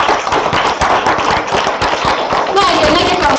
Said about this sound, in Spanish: Sí, un aplauso, compañeros.